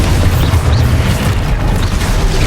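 A loud, booming blast from the Exposo explosive spell in Hogwarts Legacy rolls out as a heavy, sustained low rumble that fills the whole moment, with no voices.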